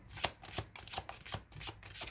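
Tarot cards shuffled by hand for a weekly reading, a rapid series of papery riffles and soft slaps that repeats steadily. The cards sound close and fairly quiet, with no talking.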